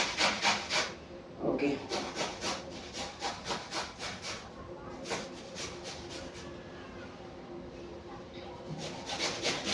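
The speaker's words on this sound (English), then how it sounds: "I think you need a very sharp grater to grate the apples." Apples grated by hand on a very sharp grater while making homemade coleslaw: close, rhythmic rasping scrapes in quick bursts of strokes with short pauses between them, and a single brief spoken word.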